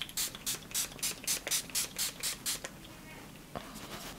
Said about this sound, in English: we are going to go in with the Makeup Mecca Stayer